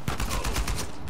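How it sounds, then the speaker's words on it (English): Gunfire from a shotgun fight in Uncharted 4, a quick run of sharp repeated blasts packed into about a second, close and loud, with a voice faintly under the shots. "Shotgun yan, sakit yan."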